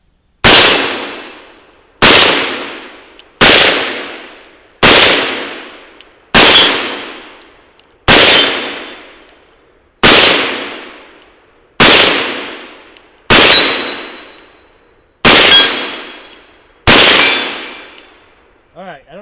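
Eleven sharp rifle shots of 80-year-old ammunition, each followed by a ringing clang of a bullet striking a steel plate, evenly spaced about every one and a half to two seconds, loud and close with decaying tails.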